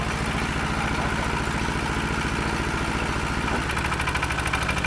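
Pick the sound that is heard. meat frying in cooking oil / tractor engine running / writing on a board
tractor engine running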